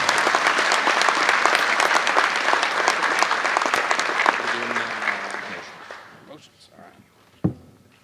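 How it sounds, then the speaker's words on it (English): Loud, dense applause at a police graduation ceremony fills a hall, holding steady before tapering off over several seconds and ending with a single sharp knock. "So another round of applause for those three individuals."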